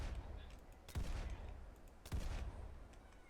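An old six-shot police revolver fires twice in a video game, the two sharp, booming shots about a second apart over a quiet, faintly rumbling background.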